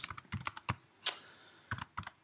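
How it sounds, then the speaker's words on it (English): Short clusters of keystrokes tap on a computer keyboard, close and fairly quiet, broken by pauses and one sharper click partway through. "I wish I could type."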